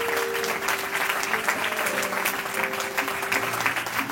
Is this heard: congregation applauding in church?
yes